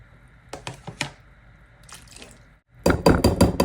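Water poured a little at a time into flour and worked by hand into chapati dough, with soft wet squishing and splashing that grows louder and busier toward the end, close by.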